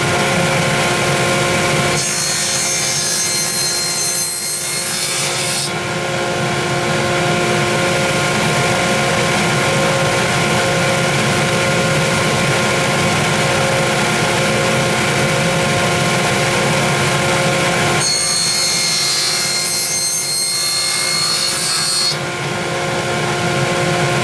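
A saw cuts six 2x4 wood pieces with a half-inch-high 45-degree cut while making tent pegs, giving two loud bursts of bright cutting noise over a steady, close, motor-like hum.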